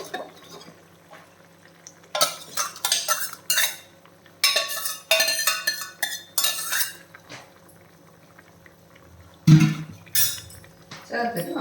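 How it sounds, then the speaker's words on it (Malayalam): Metal spoon scraping and clinking in a pot as dal is stirred into chow chow, in bursts of stirring separated by quieter pauses, with a sharp clank near the end. "ചേർത്തിട്ട് നമുക്ക് നല്ലപോലെ ഒന്ന് ഇളക്കി കൊടുക്കാം."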